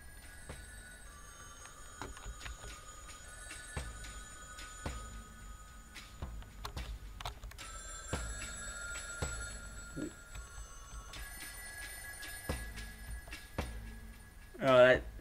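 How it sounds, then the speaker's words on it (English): Telephone bells ring in short repeated bursts through a soundscape of thumps, whooshes and a brief vocal sound at the end, standing as part of the sound design rather than a single phone. "they use the phone ringing sounds almost as the sound design"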